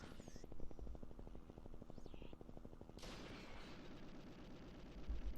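Automatic gun turrets in the arcade game Elevator Action Returns, rapid rhythmic bursts of stuttering gunfire pulsing steadily across the clip at a moderate, slightly distant level, with a brighter burst of game effects midway and no speech.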